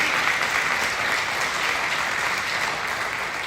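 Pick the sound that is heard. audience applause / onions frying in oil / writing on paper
audience applause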